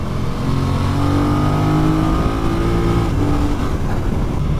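A KTM or Yamaha twin-cylinder motorcycle engine pulls steadily under load at moderate revs, a continuous loud drone with rising harmonics over wind and road noise, with no talking.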